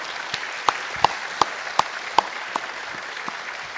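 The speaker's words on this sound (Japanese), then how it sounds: "では3名の講師にもう一度熱い拍手の方お願いします" Applause for three lecturers at a National Astronomical Observatory of Japan public lecture, heard as sparse, evenly spaced individual claps, a handful of sharp hits in a steady rhythm over quiet room noise.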